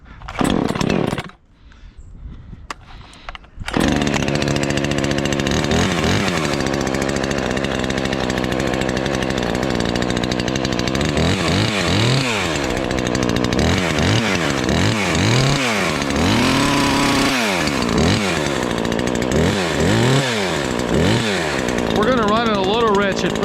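A ported Husqvarna 543xp chainsaw running on a dyno, a loud close two-stroke engine whine that revs up and down repeatedly after a brief quiet start, with someone talking over it.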